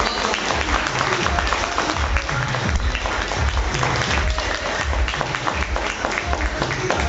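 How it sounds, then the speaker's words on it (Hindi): Dense, steady audience applause fills the whole stretch at a product and business plan presentation, loud and continuous with no pauses. "तो तालियां दार्जुनैन के लिए होनी चाहिए"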